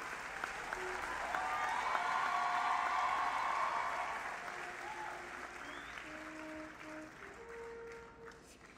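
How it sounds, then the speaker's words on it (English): Sustained applause fills a hall at the University of Trinidad and Tobago graduation ceremony, a large crowd clapping steadily, swelling and then gradually thinning toward the end, with a few faint voices and tones under it. "Give yourselves a very guarded, very jealous, very covetous round of applause."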